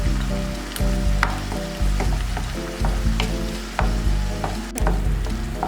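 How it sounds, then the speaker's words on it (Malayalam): Chopped onion and tomato frying in hot oil for a wheat pizza topping, with a loud, continuous sizzle and occasional spoon scrapes and taps as the mixture is stirred close by. "വെളുത്തുള്ളി വഴന്നു വരുമ്പോൾ അതിലേക്ക് അരിഞ്ഞു വെച്ചിരിക്കുന്ന സവാളയും തക്കാളിയും ചേർത്ത് ഇളക്കി കൊടുക്കാം"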